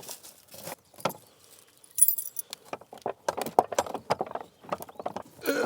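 A bunch of keys jangles and rattles continuously in someone's hands outdoors, bright metallic clinks in rapid irregular bursts, close and fairly loud, without talk.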